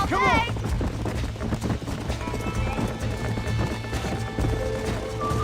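Hooves of a wild horse gallop hard in Red Dead Redemption on Nintendo Switch, a loud rapid clip-clop with a whinny at the start and steady rumbling game sounds beneath.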